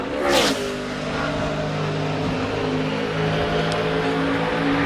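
A NASCAR Sprint Cup race car at full throttle during qualifying for the Southern 500 roars loudly and steadily, its engine holding a sustained high-revving drone throughout, with a sharp burst at the start.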